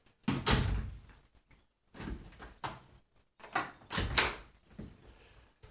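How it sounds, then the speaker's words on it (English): A door being shut by someone on their way out, giving a few separate thuds and rattles of handling spread across several seconds, fairly close and with no talking. "let me shut the door as I come out of here."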